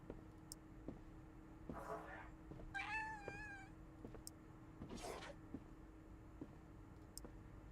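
A cat meows a few times close by in a quiet room, with soft clicks and a faint steady hum underneath, the calls brief and fairly soft.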